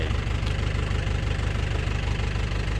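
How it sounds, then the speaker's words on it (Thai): A truck engine idles and runs steadily up close while towing a boat on a trailer, its low knocking pulse loud and continuous with no voices. "รถก็จะเดินหน้าขึ้นไป"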